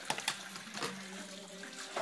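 Tap water runs into a shaker bottle for a protein shake, a steady splashing stream with a rising filling tone, close up and without speech.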